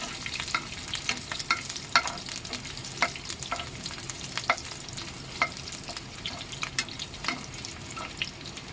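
Semolina dhokla batter being stirred in a pan over the stove, a close run of soft wet scrapes and light clicks repeating in an uneven rhythm against a faint background hiss.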